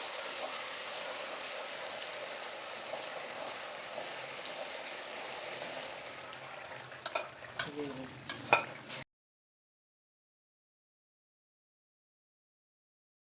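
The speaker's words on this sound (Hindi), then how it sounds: "अब इसको चम्मच चलाते रहना है और इसको इसमें डालते रहना" Semolina fries in ghee for makhandi halwa while a spoon stirs it. A continuous rain-like sizzle and scrape grows busier toward the end, then stops abruptly into silence.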